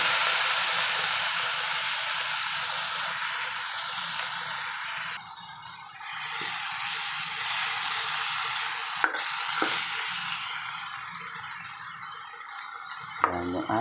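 Frozen chicken frying in a pan gives a loud, continuous sizzle and spitting hiss up close, dropping slightly midway as pieces settle, with occasional clinks of a utensil against the pan.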